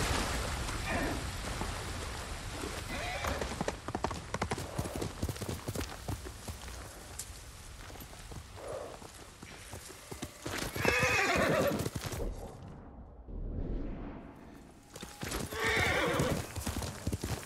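A horse in the video game Ghost of Tsushima clip-clops at a gallop over rainy ground with steady hoofbeats, letting out loud neighs and whinnies midway and near the end, with rain hissing beneath.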